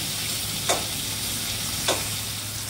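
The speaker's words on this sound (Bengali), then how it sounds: "দুটো কাঁচা লঙ্কা, টমেটোটা একটুখানি ভাজতে দেবো।" Tomato and green chillies sizzle steadily in a frying pan, a close, even hiss broken by two brief scrapes of a spatula.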